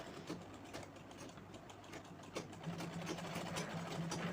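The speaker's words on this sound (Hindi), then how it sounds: "इस तरह से सिलाई लगाते जाना है हर पंखुड़ी के बीच में।" A sewing machine runs steadily, stitching petal shapes out of fabric cut from an old kurti. It makes a fast, even mechanical whir with faint clicks, quiet and close, with no voices.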